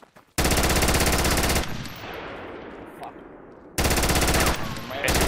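Loud automatic gunfire from the video game Project Reality rips out in two long sustained bursts, a quieter stretch of scattered shots and echoes falling between them, close and dominant in the mix.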